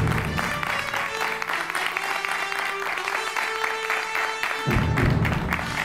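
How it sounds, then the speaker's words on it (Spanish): Studio audience applause welcoming a handball guest onto a talk show, steady, fairly loud clapping that runs throughout, with a few voices under it and a brief swell near the end. "Un aplauso muy grande para Demetrio Lozano."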